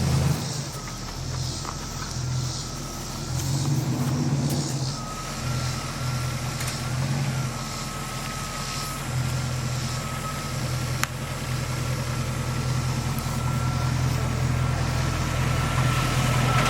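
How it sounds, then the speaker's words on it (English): A dually pickup truck pulls into a driveway, its engine a steady low rumble held close throughout, with a faint high tone running through the middle and a single sharp click near the end. "it's Little Miss pulling in the driveway in the dually"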